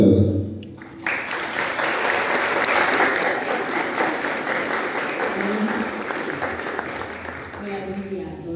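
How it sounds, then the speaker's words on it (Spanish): Loud, sustained applause from a full university amphitheatre audience welcoming a speaker at an engineering event, starting abruptly after a second of quieter sound and continuing steadily throughout. "La recibimos con un fuerte aplauso."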